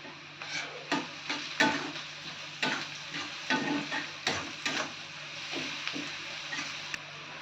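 Salted onions frying in a pan, with a low continuous sizzle broken by repeated clacks and scrapes of a spatula stirring, roughly one to two per second, no talk.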